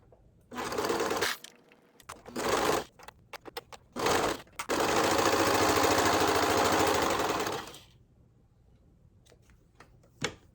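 A serger sewing machine stitches skirt fabric in a few short runs, then one long continuous whirring burst, loud and close, with quiet pauses between runs.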